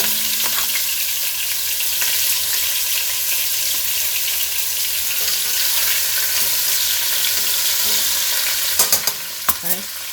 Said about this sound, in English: all I'm going to do is just let it saute for a couple minutes on each side